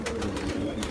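A sick pigeon held in the hand makes a close, continuous raspy wheeze with soft cooing tones, a short breathy sound with no talk over it.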